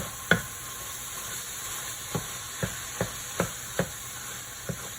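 Taco meat crumbling and browning in a pan over raised heat, with a soft steady sizzle and a few sharp stirring clicks and scrapes spaced irregularly, close by.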